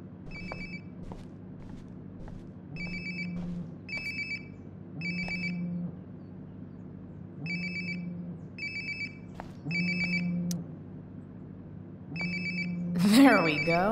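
A phone rings repeatedly in the Life is Strange: Before the Storm video game, its tones coming in regular bursts over a low ambient hum, with a brief louder rustle near the end.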